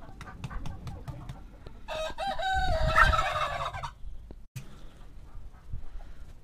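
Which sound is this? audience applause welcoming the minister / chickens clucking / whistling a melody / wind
chickens clucking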